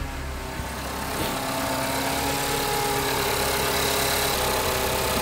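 A Nissan Qashqai engine idles steadily right after a cold start, a loud, close, continuous rumble with a faint mechanical knock, heard alone without any talk.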